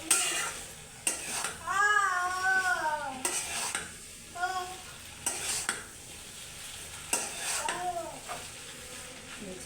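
Noodles with coriander leaves being stirred in a cooking pot, with repeated scraping and clinking utensil strokes over a low sizzle; a voice hums or babbles in a rising, wavering tone between the strokes.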